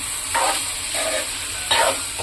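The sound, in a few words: stirring cashews in a cooking pan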